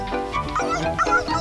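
A dog playing in deep snow gives short yips, whimpers and barks in a quick, continuous burst, close and fairly loud.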